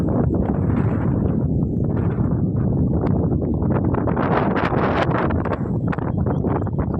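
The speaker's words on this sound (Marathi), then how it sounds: "वारं तर इतकं सुटलंय ना नको झालं ह्या वारेनं" Strong wind blows outdoors over grassy open country, roaring constantly and buffeting the microphone in loud, unbroken gusts with no voices.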